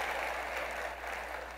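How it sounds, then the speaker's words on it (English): An audience applauds a presenter in a hall, a steady dense wash of clapping that holds evenly across the whole moment without any voices over it. "You guys can give an extra round of applause for Ben because he did such a nice job."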